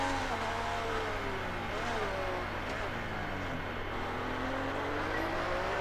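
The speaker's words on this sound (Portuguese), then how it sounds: "O motor tá alto." In the F1 2019 video game, a Ferrari 312 T2 racing engine drones loudly at Baku, its rising and falling engine tones sweeping through gear changes under a steady roar, with a voice speaking over it.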